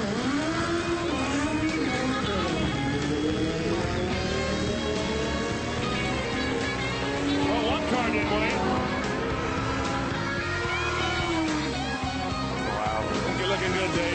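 Small Bandolero race cars driven by young kids racing around a track, engines buzzing and revving continuously with rising and falling pitch, while people talk over the noise.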